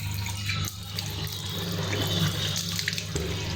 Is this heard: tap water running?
yes